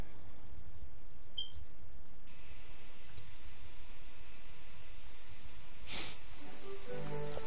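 Steady rainfall in the video game My Time At Portia, a continuous soft hiss with a few faint interface clicks and tones and no talk.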